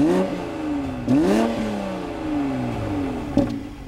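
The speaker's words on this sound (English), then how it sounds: "apparently American versions get the throatiest engine growl because of worldwide noise standards" A 2020 Toyota GR Supra engine revs up through several gear changes, the pitch climbing then dropping at each shift, with a sharp burst near the start and a crackle at the end.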